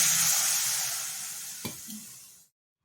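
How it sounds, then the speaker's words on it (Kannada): A loud broadband sizzle as water hits spices and maida roasting in a hot pan for a broccoli gojju curry; the hiss swells, a brief stir clatters, then it fades and cuts off near the end. "ಇವಾಗ ಇದಕ್ಕೆ ನೀರು ಹಾಕ್ಕೊಳ್ತಾ ಇದ್ದೀನಿ"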